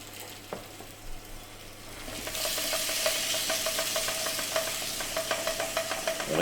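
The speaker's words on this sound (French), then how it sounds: "on va faire revenir les poivrons à la poêle, donc un filet d'huile d'olive" Bell pepper pieces hit hot olive oil in a frying pan and break into a steady, loud sizzle with a few light stirring clicks, close up and continuing unbroken to the end without speech.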